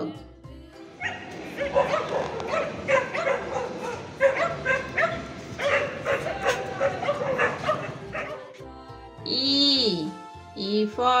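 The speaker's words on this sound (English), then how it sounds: "D for dog." A dog barks and yips repeatedly in a busy, overlapping stretch, then gives a drawn-out whining whimper near the end.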